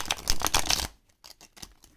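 A deck of tarot cards is riffled and shuffled up close, a quick rapid flutter followed by a few softer taps as the cards settle.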